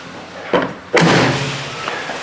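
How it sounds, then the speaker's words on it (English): A Land Rover 110 door is pushed and then slammed shut with a solid thud, followed by a brief ringing decay; a lighter knock comes just before. "we shut our door"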